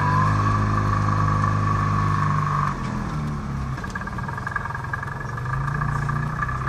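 A Ligier JS60 sports car engine pulls away under acceleration, a steady near drone that drops in pitch midway and then climbs again toward the end.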